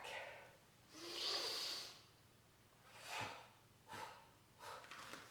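Breathing in and out through a spine stretch, a quiet close inhale hiss followed by several shorter exhaled puffs, alone and faint.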